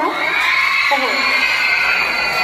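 A large crowd of students at a school student council election screams and cheers continuously at high pitch, loud and sustained, with shrill voices blending into one roar.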